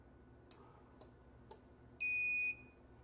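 Self-test of an automated ant farm: three short evenly spaced ticks, then a loud steady high-pitched electronic buzzer tone lasting about half a second, close by over a quiet background hum.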